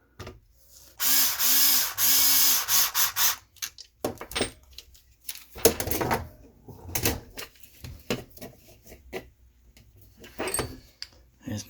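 A screw being driven into an RC truck part, short bursts of power-driver whirring near the start followed by clicks and handling clatter of the small plastic parts, with someone talking throughout.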